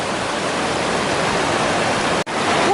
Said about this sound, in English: Another river crossing.